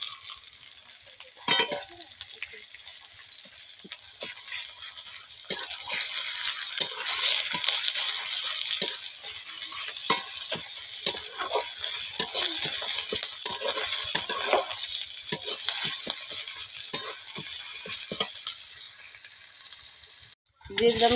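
Ginger, onion and garlic paste fries in oil with cumin, cardamom, cloves and cinnamon while a spoon stirs and scrapes the pan. Soft sizzling sits under repeated scraping strokes, then cuts off abruptly at the end.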